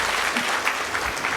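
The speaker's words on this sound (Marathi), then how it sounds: "त्याबद्दल साळुंके परिवारासाठी खरोखर एकदा जोरदार टाळ्या झाल्या पाहिजे" A hall audience at the Matrugaurav Sohala 2026 applauds the Salunke family in a brief, even burst of dense clapping.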